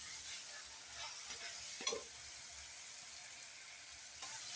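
Spiced vegetables with cumin powder and a splash of water being stirred in a pan, a soft scraping stir over a faint continuous sizzle with one brief clatter, quiet and without speech.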